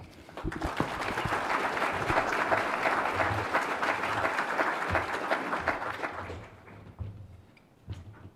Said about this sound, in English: give a good rousing Saginaw applause for Dr. Ghosh